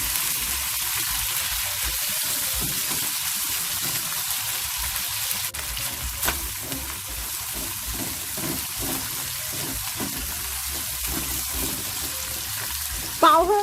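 Canned fried dace with salted black beans stir-fried in a wok with minced ginger and garlic, a steady close sizzle with scraping stir strokes throughout.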